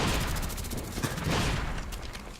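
Video game gunfire in Black Ops on the Jungle map, with an L96A1 sniper rifle in play: a faint, dense crackle of repeated shots and bursts lasting a couple of seconds.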